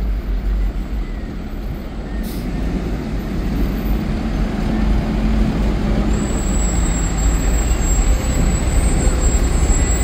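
Engine 82, a fire engine in a town fire department parade, rumbles past with a deep, steady drone. A brief hiss cuts in early on, and a faint high whine appears later.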